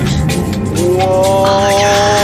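A Bentley Continental GT accelerates hard with its turbos engaged, engine note rising in pitch as revs climb over a loud, close roar of road and wind noise.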